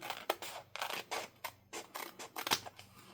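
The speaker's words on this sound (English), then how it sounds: "But since I started, I'll go ahead and trim it up here." Scissors snip through paper while trimming a small handmade fall gratitude journal, with several short, crisp cuts spaced irregularly, fairly close and moderately quiet, with no speech.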